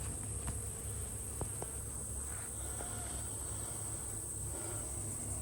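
Honeybees around an open hive give a faint, steady buzzing close by, with a few brief, sharper buzzes of passing bees.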